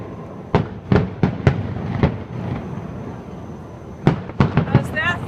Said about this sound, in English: Disneyworld fireworks, December 22nd,